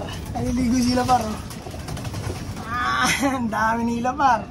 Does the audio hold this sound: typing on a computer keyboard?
no